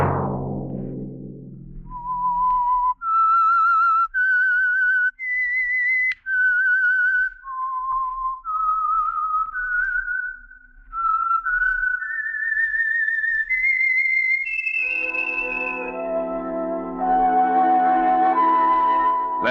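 A clear, solo whistled melody, the theme of The Whistler radio program, rises in sustained notes and a climbing phrase before orchestral music swells in at the end.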